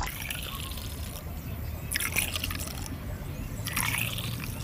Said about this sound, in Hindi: अब इसके अंदर हम शरबत को डालेंगे।